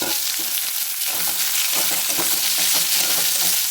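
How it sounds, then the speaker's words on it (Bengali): Two medium chopped onions fry until lightly browned in oil with dried red chillies, bay leaves and whole garam masala, giving a loud, close, steady sizzle with stirring scrapes and no voices. "পেঁয়াজটা আমি হালকা ব্রাউন করে ভেজে নেব"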